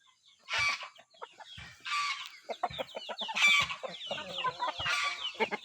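Chickens cluck close by in a farmyard, with repeated loud squawking calls every second or so over a busy bed of softer clucks and scratchy chatter.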